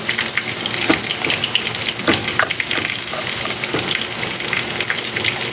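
Chopped onion sizzles steadily in hot oil in a pan, with a continuous close frying hiss and a few soft stirring scrapes, no talking.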